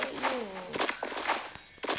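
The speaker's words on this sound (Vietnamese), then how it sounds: "Là chim." A bird coos softly a few times, fairly distant, against a noisy background, with no speech heard.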